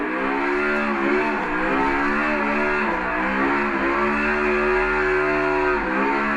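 RTR Mustang engine in a street drifting simulator set on Long Beach roads, revving hard and continuously with rising and falling pitch sweeps as gears and throttle change, loud and alone throughout.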